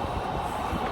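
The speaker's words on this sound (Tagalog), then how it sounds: "Ano yung maingay? May tren." A train rumbles past River Valley park in Edmonton, a loud continuous low roar and rattle filling the whole moment without a break.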